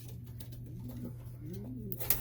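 A young racing pigeon coos softly in a loft, a few low rolling murmurs rising and falling over a steady hum, with faint chirps from other birds.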